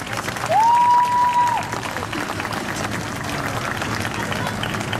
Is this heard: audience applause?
yes